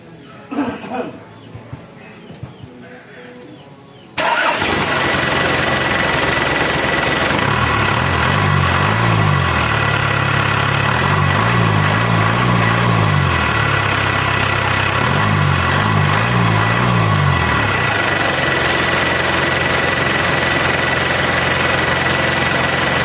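An Isuzu Hi-lander diesel engine cranks and catches after an injector repair, then settles into a loud, steady idle. Its low drone swells in periodic throbbing pulses. Faint sounds come before the start.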